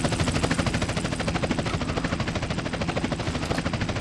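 Helicopters take off in GTA SA-MP, a loud, steady rotor chop throbbing rapidly and continuously, close and dense, with no voices over it.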